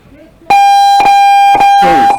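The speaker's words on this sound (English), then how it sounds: "hit that bunker buzzer there" A loud, harsh electronic paintball bunker buzzer blares during a tournament in a long continuous tone, pulsing briefly a few times before cutting off.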